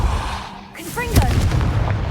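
A Confringo spell blast in the video game Hogwarts Legacy, a sudden loud burst and crackle ringing out after a brief hush, with a shouted voice over the blast.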